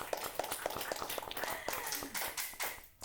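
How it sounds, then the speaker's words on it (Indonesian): Hands clapping at a search-and-rescue gathering, a quick run of sharp claps merging into brief scattered applause, close and fairly loud, with voices mixed in. "tepuk tangan dulu dong."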